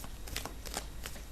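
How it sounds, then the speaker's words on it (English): Tarot cards shuffle close by in a few quick riffling bursts, soft and crisp against a quiet room. "we'll get the cards shuffled out for you for this month"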